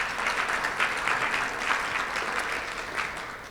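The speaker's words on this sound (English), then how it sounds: "Let's give Kenneth a round of applause." Steady audience applause at a Rotary club meeting honouring a federal prosecutor, a sustained wash of many hands clapping in a room, even in loudness throughout and without speech.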